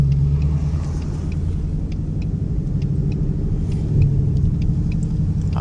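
A Ford Mustang GT's engine rumbles steadily from inside the car as it drives in the rain, a deep, continuous low drone heard close and without talk.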